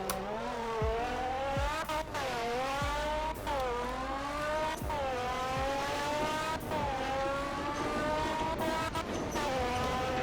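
A car engine in the Roblox video game revs repeatedly, each loud run climbing in pitch before dropping off as it shifts, several cycles in a row, with no talking.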